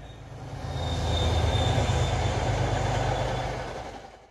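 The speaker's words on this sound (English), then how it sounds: "This is an MBTA commuter rail train." An MBTA commuter rail train rumbles past, swelling from a distance to a loud, steady roar with wheel noise, then fading away.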